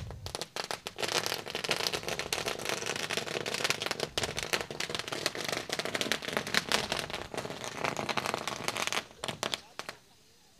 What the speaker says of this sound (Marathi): फटाक्यांच्या आतिषबाजी म्हणजे आमच्या पाहुण्यांचं होत आहे स्वागत